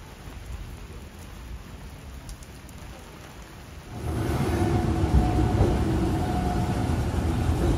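Rain falls steadily in Arashiyama, Kyoto, as an even hiss that swells abruptly halfway through into a louder, denser wash with a low rumble beneath.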